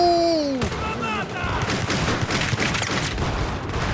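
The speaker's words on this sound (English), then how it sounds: "Ooh, that's a grenade." A grenade blast in Battlefield 3 co-op play, a rumbling explosion followed by scattered gunfire, with a player talking over it.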